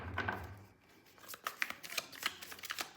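Tarot cards are shuffled and drawn during a reading, with a few quiet, close riffles, slaps and slides of card stock in short clusters and no talking.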